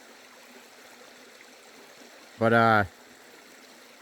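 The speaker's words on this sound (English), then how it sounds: "I got a side stream coming right through there. Still got a little water trickling through it." A small side stream trickles steadily through a prospecting site in Maine, a faint, continuous watery hiss, interrupted briefly by a single spoken word.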